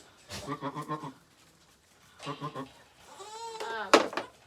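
A young Boer goat kid bleats close by in three wavering calls separated by pauses, the last one higher and strained, in a farm setting during kidding season.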